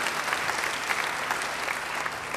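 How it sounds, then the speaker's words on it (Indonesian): A church congregation claps together in a dense, steady wave of applause lasting a couple of seconds, fairly close and with no voices rising above it. "Yang percaya beri tepuk tangan yang baik bagi dia."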